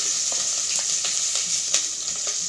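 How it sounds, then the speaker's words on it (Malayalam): Green chillies dropped into hot oil for Punjabi lemon chicken, frying with a loud, close, continuous hiss and sizzle, broken by small regular scrapes of a spoon stirring. "നമുക്ക് പച്ചമുളക് ഇട്ട് കൊടുക്കാം"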